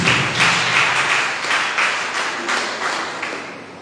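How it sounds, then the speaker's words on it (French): A church congregation claps for Jesus Christ in a steady, dense burst of sharp hand claps, loud and close, with rhythmic surges and no talking over it. "Applaudissez pour le Seigneur Jésus-Christ."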